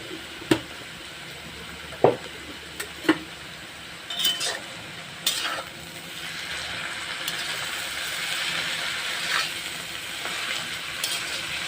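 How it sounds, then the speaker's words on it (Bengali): Amaranth greens frying in a pan, seasoned with salt and turmeric and cooked with brinjal, give a steady soft sizzle while a utensil scrapes and clinks against the pan in a few sharp taps near the start. "ডাঁটা শাকটা হয়ে গেছে বন্ধুরা, এবার বেগুন দিয়ে নাড়াচাড়া করে নামাই নেব।"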